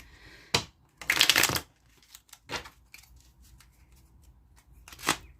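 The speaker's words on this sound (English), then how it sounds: "I'm just being told to shuffle one more time" Tarot cards being shuffled in several quick riffling bursts, with soft handling clicks and rustles in between; close and fairly quiet, no voices.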